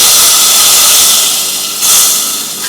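Hot Kannada-style tempering with broken dry red chilli sizzles loudly into snake gourd kootu, a steady close hiss that swells again briefly near the end, with no talking.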